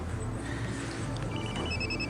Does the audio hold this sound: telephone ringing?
yes